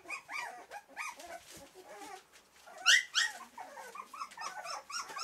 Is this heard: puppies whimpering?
yes